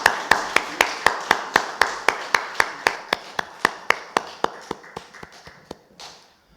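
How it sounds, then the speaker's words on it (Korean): A church congregation claps in steady, even unison during a Sunday daytime worship service, about four sharp claps per second for roughly six seconds, fading slightly toward the end. "하나님께 영광의 박수 올려드립니다."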